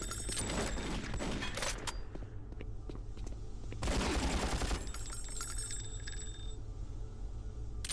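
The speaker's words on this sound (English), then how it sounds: "The casing sounds are... add a lot of flavor, but they sure seem a little excessive" Metallic shell casings tinkle and clatter amid rapid, loud gunfire bursts in the first-person shooter Doom 3, with heavy firing clustered early and again midway, and casing chimes ringing between shots.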